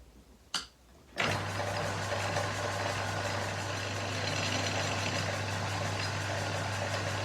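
A metalworking machine starts up with a sharp thump and then runs on at a steady, loud drone with a low hum while cutting off steel stock for a model locomotive crank pin.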